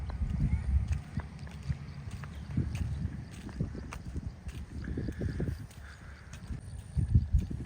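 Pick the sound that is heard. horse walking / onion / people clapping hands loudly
horse walking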